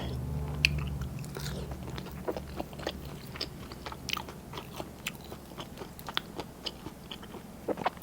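Someone eats a sour Thai fermented fish roe dish with grilled fish, with close, soft chewing and occasional crisp bites repeating steadily.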